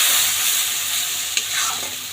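Spice paste sizzles in a pan with a little water added, making a bright hissing fry with a soft scrape of stirring and one small tap near the end.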